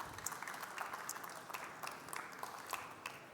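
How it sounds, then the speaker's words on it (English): Audience applause for a speaker at a Formnext expert stage talk: a thin, fairly faint patter of clapping from a modest crowd that continues evenly for a few seconds. "And an applause for Gaetano."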